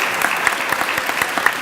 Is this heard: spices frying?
no